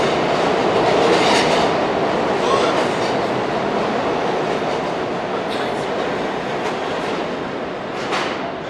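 A train rumbles steadily along the tracks with a broad, continuous roar and faint rattling of the wheels, heard from inside or close by.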